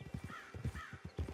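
A horse in the Western video game Red Dead Online walks along, its hooves clip-clopping in a steady, fairly quiet rhythm with a faint bird call drifting above.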